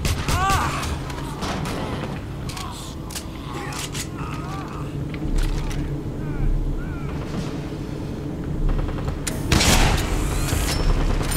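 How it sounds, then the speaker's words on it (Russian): Gunfire aimed at the player in the shooter video game Wolfenstein, heavy booms and bursts of shots at irregular intervals over mechanical game noise, with a voice talking in between. "это походу как раз новая пушка, с которой меня пуляли"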